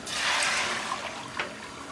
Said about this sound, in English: I'm going in, guys, with my water